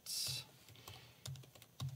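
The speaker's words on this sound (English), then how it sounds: "So I'll just type in the IP address of the converter." Fingers tap out an IP address on a computer keyboard in short clustered bursts of clicks and keystrokes, close and fairly quiet, with brief pauses between groups and no talking.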